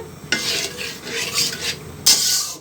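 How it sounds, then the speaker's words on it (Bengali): A spice mixture of chili powder, turmeric, cumin paste and salt with water is stirred in a pan for a koi fish milk curry, giving scraping, swishing strokes with a faint sizzle, close and clear with no talk. "একটু নেড়ে চেড়ে নেব।"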